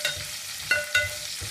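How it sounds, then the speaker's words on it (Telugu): Sliced onions fry in hot oil for Nellore pappulusu, a steady close sizzle punctuated by a few sharp clinks of a stirring spoon against the pan, with no talking. "ఇప్పుడు ఈ ఉల్లిపాయ ముక్కల్ని ఎర్రగా వేపుకుందాం."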